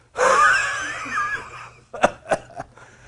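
A man imitates a forceful, wheezing exhale, one long raspy breath pushed out, followed by a few short huffing gasps.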